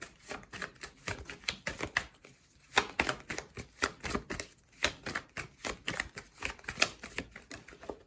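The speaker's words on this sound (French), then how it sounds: "Ok, et il y a une carte qui vient de tomber." Tarot cards being shuffled and handled, giving a close, steady run of crisp papery clicks and flutters in quick irregular bursts, with one card dropping during the shuffle.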